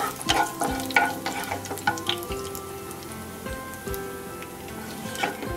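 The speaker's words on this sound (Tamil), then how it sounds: "ஒரு 1/2 டீஸ்பூன் வந்து ஜீரகம் போட்டு தாளிக்கிறேன்." Half a teaspoon of cumin seeds sizzles in about two tablespoons of hot oil in a pan, crackling and popping in quick irregular bursts with occasional stirring clinks, close and fairly loud, with no talk.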